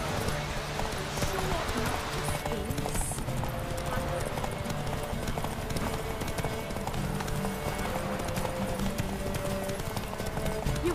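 Steady rhythmic hoofbeats of a horse galloping in The Witcher 3 during a race, continuous clip-clop under game character voices and background music.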